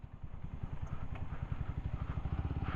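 A motorcycle engine chugs with a steady, rapid thump while riding on a mountain road between Pokhara and Mustang in Nepal, fairly quiet and continuous, with faint clatter and no talking.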